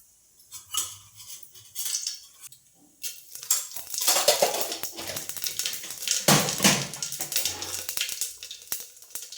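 Spices hit hot oil for a sambar tempering with a sudden loud sizzle that keeps crackling, flaring again midway, with light clinks of a utensil against the pan.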